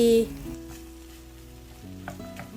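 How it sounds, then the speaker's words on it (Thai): Chinese kale and carrot stir-fry over high heat in a wok, a soft, steady sizzle with light stirring under tonal background music and no talking. "ตอนนี้นะคะเราสามารถใช้ไฟแรงๆ ผัดจนผักเริ่มสลดค่ะ"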